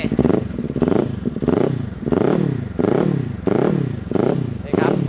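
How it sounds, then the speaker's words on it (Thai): A 2020 Kawasaki Ninja 400 fitted with a JP Racing titanium slip-on exhaust runs close by, its engine note rising and falling in a steady, repeating rhythm of pulses over about five seconds, with no talk. "คันนี้ครับมาพร้อมกับท่อแต่งจาก JP Racing ครับเป็นไทเทเนียมแบบ สลิปออนครับมาฟังเสียงท่อคันนี้กันหน่อย"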